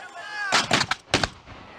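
A cannon fires at a historical reenactment alongside musket volleys, heard as a cluster of sharp booming blasts followed by a second report, fairly distant outdoors, with a faint tonal sound just before.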